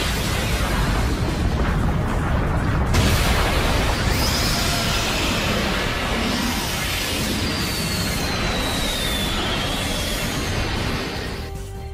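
Energy attacks blast apart planets in a Dragon Ball fight animation, a sustained roar of heavy explosions and crashing debris with a sharp burst early on, steady and loud throughout before easing off at the end.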